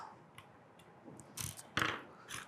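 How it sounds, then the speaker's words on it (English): A T10 Torx driver backs a screw out of the back housing of a dormakaba Saffire lock, making faint, close ratcheting clicks and small scraping ticks in a quiet room. "take my T10 Torx driver and take this screw out of the back housing so that I can open it up"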